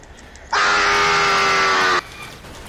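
A character in the Dragon Ball: The Breakers video game lets out one loud, sustained, raspy scream lasting about a second and a half, abruptly starting and stopping over quiet game background.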